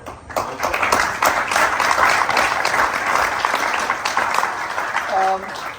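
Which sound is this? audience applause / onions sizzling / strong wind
audience applause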